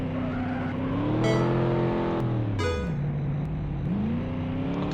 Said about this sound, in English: Why had the car bog down that much?